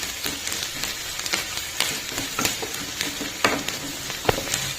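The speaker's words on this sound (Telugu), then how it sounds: "ఇప్పుడు ఆనియన్స్ ఫ్రై అయ్యాయండి. మనం దీనిలో ఒక చిటికెడు పసుపు వేసుకుందాం." Onions fry in a pan with a pinch of turmeric, a continuous close sizzle with occasional sharp stirring clicks and scrapes, no voices heard.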